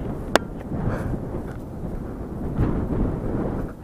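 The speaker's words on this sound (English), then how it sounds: "Are you fighting the wind when you run?" Heavy wind buffets the microphone of someone running outdoors, a steady low rumbling roar throughout with a brief sharp knock near the start.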